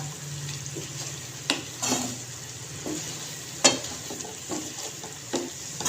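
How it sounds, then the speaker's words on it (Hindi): Potatoes and gram flour are stirred in a pan over low heat, with a steady soft sizzle and occasional scraping and tapping of the spoon against the pan, close by and with no talking. "स्लो पे करने के बाद इसको हम अच्छे से मिक्स कर लेंगे आलूओं के साथ।"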